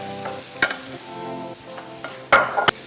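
Chicken fries and sizzles in a pot at close range, with occasional stirring clatter and sharp utensil knocks over a steady bubbling hiss.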